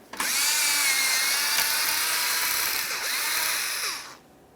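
A power tool whirs steadily for about four seconds while removing 7mm headed mounting bolts from the front inner fender liner of a 2017-2023 GMC Acadia. It is a close, continuous high-pitched whine that stops abruptly.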